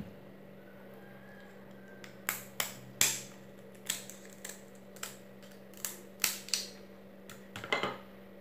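Kitchen scissors cut and crack open the thin, spiny shell and legs of a cooked Asahi frog crab, a string of sharp, close snips and clicks spaced unevenly over a faint steady hum.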